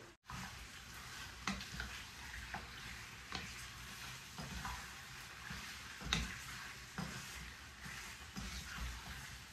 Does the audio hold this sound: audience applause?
no